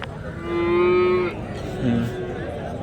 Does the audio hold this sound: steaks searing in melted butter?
no